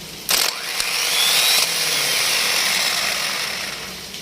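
A vehicle starter motor with a newly replaced relay spins steadily for about four seconds, a loud continuous whirring grind that starts abruptly with a brief initial clatter and holds an even, slightly rising whine throughout.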